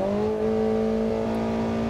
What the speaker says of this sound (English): It revs really, really slow